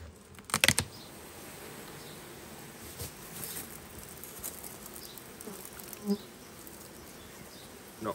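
Honey bees hum in a low, steady buzz inside an opened HiveIQ beehive, quiet and close, broken by a few faint clicks and knocks.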